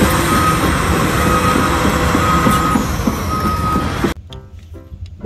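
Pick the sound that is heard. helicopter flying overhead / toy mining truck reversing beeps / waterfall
toy mining truck reversing beeps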